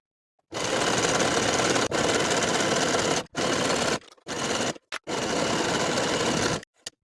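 Sewing machine stitching side seams on jersey loungewear, loud continuous whirring runs broken by brief pauses, close up with no talk.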